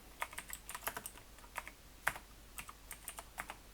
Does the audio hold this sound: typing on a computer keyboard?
yes